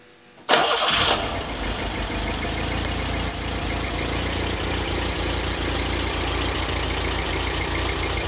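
A Peugeot 504 coupé engine with a Kugelfischer injection pump cranks and fires after a short silence, then settles into a loud, steady, close idle with a rough, even pulse.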